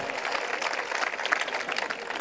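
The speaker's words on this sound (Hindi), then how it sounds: "तालियां बजाते जाओ यार" Audience clapping steadily at a Hindi shayari poetry recital, a dense continuous patter of many hands at moderate distance with no pauses.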